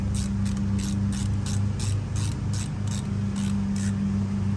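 Ratchet wrench snugging the fuel injector rail bolts on a 2016 Kia Forte 1.8L engine, a rapid, even run of close clicking pawl strokes over a low steady hum.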